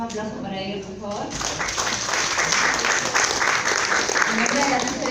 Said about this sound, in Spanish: Rica Caballero, un aplauso para ella, por favor.